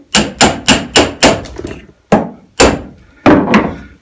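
Rivet tool setting a rivet on sailing gear: a run of sharp, close, loud thunks in quick succession, then a few more spaced-out hits with short gaps between them.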